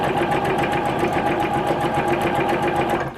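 A sewing machine runs steadily as it back stitches fabric for a jelly roll charm cushion, its needle beating in a fast, even rhythm from start to finish before easing off at the very end.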